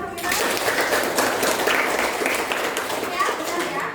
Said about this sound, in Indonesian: Hamira, boleh tepuk tangan buat Hamira?